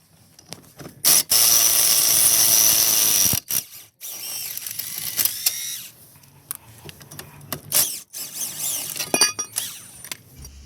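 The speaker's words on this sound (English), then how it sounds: "it's going to be a 21mm socket to remove the clamp" A ratchet wrench with a 21mm socket works loose the front brake caliper clamp bolt on an Audi A4 during a brake disc and pad job, giving repeated mechanical clicking bursts close by, with clanks and tool handling between them.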